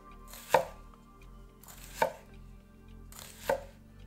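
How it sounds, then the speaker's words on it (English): A knife slices through peeled shallot on a board, three sharp evenly spaced cuts about a second and a half apart, close and clear over a quiet low hum. "peel and thinly slice shallot"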